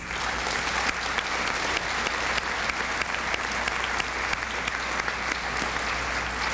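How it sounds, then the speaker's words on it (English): An audience applauds steadily at a school's eighth grade recognition ceremony, dense, sustained clapping from a large crowd with no pauses. "These students deserve a round of applause."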